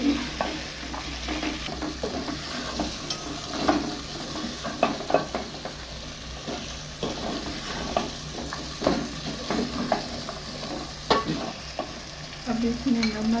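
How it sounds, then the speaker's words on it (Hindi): Egg gravy masala frying in a pan while a spoon stirs it, a steady sizzle running throughout with repeated scraping strokes, close and moderately loud, no voices. "अब इसको अच्छी तरह से भूनेंगे 5 से 6 मिनट तक इसको भूनेंगे अच्छी तरीके से"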